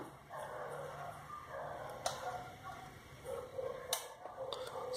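Dogs bark off in the background, with a couple of sharp, brief barks rising over a steady low hum of the room.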